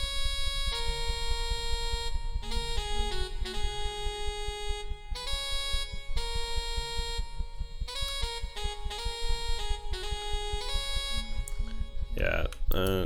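A synthesized saxophone lead playing sustained tones and short stabs over a steady thumping beat and pad in a hip-hop production, with bright reedy harmonics and a quick pitch bend near the end.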